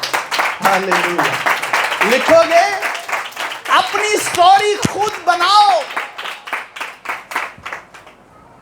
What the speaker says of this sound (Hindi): जोरदार तालियां बजा